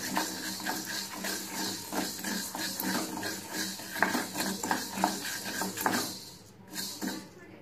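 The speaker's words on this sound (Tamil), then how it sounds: "ஜவ்வரிசியை கொஞ்சம் நல்லா வறுத்துக்கோங்க." Sago pearls are dry-roasted and stirred in a kadai, making a continuous gritty rustle and scrape with uneven spoon strokes against the metal. The sound is fairly loud, then eases briefly near the end.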